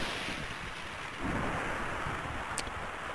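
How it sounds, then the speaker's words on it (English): Thunder rumbles through a stormy scene in the video game Tactics Ogre: Knight of Lodis, a steady low roar with a brief crack near the end, layered with rain and wind. "Thunderbolts and lightning. Very, very frightening."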